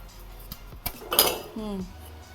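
A spoon clinks and scrapes against a pot while rassa curry (patwadi amti) is stirred, a few sharp metallic taps spaced over a couple of seconds, close and moderately loud.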